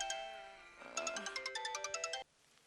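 A phone rings loudly in a domestic setting, a steady tone giving way to a rapid series of about ten bright, regular electronic pulses before cutting off abruptly.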